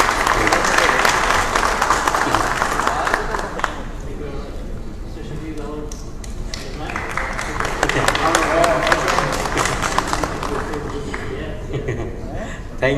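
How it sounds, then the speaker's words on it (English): An audience applauds at a stage gift-giving during a networking technology roadshow, steady dense clapping that swells, dips briefly, then rises again with voices mixed in. "please have a clapping for them."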